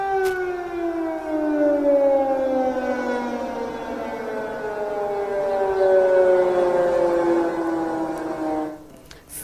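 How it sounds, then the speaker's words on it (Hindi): Civil defense air raid sirens over Kyiv wail in one long, loud, sustained tone that slowly falls in pitch, heard on its own for several seconds. "कीव में आज सुबह से एयर स्ट्राइक के लिए अलर्ट जारी किया गया है और वहां पर सायरन लगातार बजते हुए सुनाई दे रही हैं"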